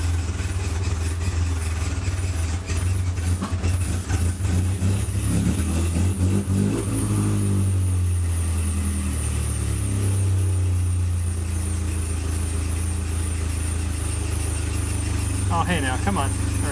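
A 1977 Porsche 924 running Megasquirt idles with a low, steady engine hum, then revs up and falls back to a settled idle, with someone talking throughout.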